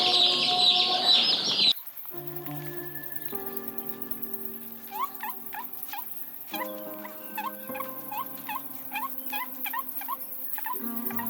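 Young poultry chicks newly delivered to a farm peep and chirp in rapid, repeated calls close by, over a steady background hum.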